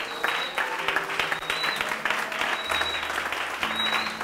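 A church congregation breaks into sustained, dense applause with some cheering, steady and loud throughout.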